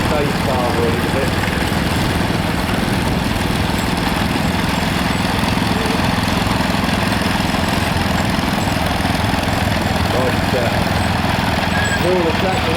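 A historic agricultural tractor engine runs steadily at a steam rally parade, a continuous loud low chugging rumble with no pauses, mixed with outdoor crowd background.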